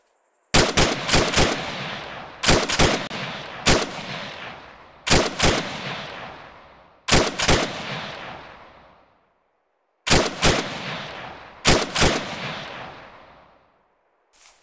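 Unsuppressed rifle fire in the video game Arma 3, loud bursts of two or three sharp cracks repeating every couple of seconds, each burst trailing off in a long rolling echo, with a quiet gap near the end.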